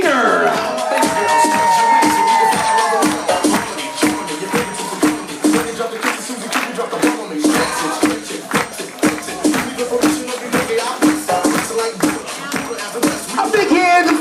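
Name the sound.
wedding guests applauding and cheering for the couple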